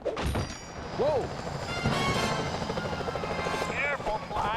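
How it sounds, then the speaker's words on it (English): A security helicopter in the Sly Cooper Thieves in Time video game, its rotor drone steady and loud throughout with whooshing effects and character voices over it. "Those security choppers are bad news."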